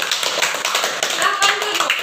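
Applause from students in a classroom, steady dense clapping for classmates over about two seconds, fairly close.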